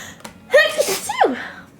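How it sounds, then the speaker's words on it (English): A single close, sharp sneeze bursts out suddenly, followed by a brief breathy vocal trailing off. "Sorry about the sneezing."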